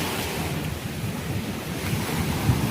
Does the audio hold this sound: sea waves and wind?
yes